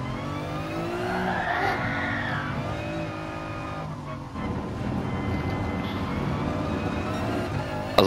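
A BMW M4 drifting in Gran Turismo Sport on PS4, its engine droning loud and steady while the tires skid and squeal through the slide. The sound runs unbroken, with no one speaking.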